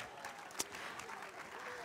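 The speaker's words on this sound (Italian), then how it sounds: "Eccole qua, un grande applauso." An audience claps steadily at an evening singing show, a dense patter of many hands at moderate distance, with one sharp louder clap standing out partway through.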